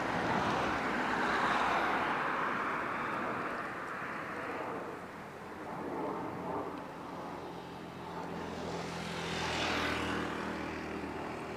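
An Air Canada airliner in special livery moves at Barcelona El Prat airport, a broad engine roar that swells, dips and rises again over about eleven seconds, heard from a middle distance with no talk.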